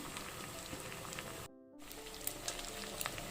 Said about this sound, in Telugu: ఫ్రై అవుతుందండి ఆయిల్లో. ఫిష్ ఇప్పుడు వేసాం కదా